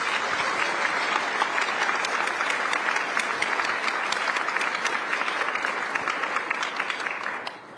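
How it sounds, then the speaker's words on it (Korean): A Korean community gathering in San Francisco applauds the visiting president and first lady, a steady, even round of many hands clapping at moderate distance that stops abruptly at the end. "대통령님과 여사님께 뜨거운 환영과 감사 박수 부탁드리겠습니다."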